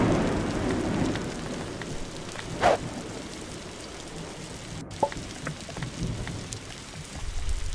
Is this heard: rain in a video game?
yes